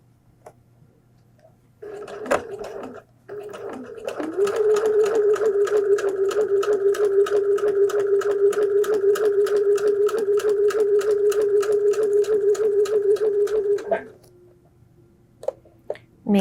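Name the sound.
sewing machine back stitching a flu mask seam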